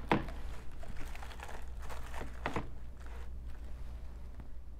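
A long, flat paper barrier cover crinkles and rustles as it is laid over a computer keyboard, with a few soft close crackles that fade into near silence.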